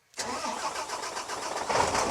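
A farm machine's engine cranks and catches during a corn harvest, then settles into a steady, fairly loud mid-pitched idle that rises slightly near the end, with no talk.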